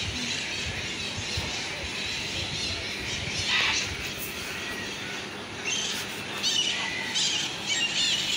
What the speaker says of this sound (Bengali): সব পাখিরা একসাথে ডাকছে।